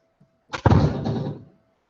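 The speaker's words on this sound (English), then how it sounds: "I'm just gonna shut the door really quick." An indoor door shuts with a single close, solid slam, followed by a short rumbling decay that fades out within about a second.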